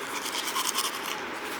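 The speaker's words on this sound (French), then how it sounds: "Tu te brosses les dents, Julien?" A toothbrush scrubbing teeth with a steady, close, bristly scratching over under two seconds, continuous with a faint rhythmic back-and-forth pulse and no speech.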